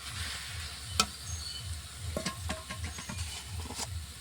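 Spice paste sizzling in oil in a wok alongside small puti fish and chopped onion and chili, a close, soft frying hiss with scattered pops and clicks and a faint rhythmic low rumble underneath.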